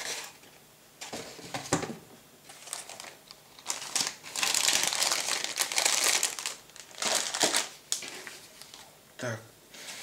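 Model kit box for a 1:35 scale Panhard 178 armored car being opened, with plastic parts bags crinkling in bursts of rustling and crackling, close and fairly loud, with pauses between handlings.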